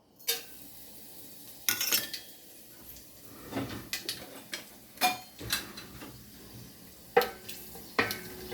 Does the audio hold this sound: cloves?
yes